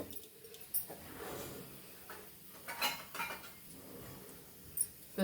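Fried chillies are scooped from a pan into a bowl, producing a few soft metallic scrapes and light clinks of utensil against cookware, quiet and sparse with no speech.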